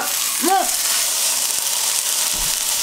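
A pork roast sears in a pan greased with a teaspoon of fat, giving a loud, close, continuous sizzle. A brief voice sounds near the start, and a soft knock comes later.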